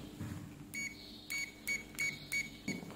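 An Aneng auto-ranging multimeter sounds short, bright continuity-test beeps, about five brief tones in quick succession, fairly faint and alone.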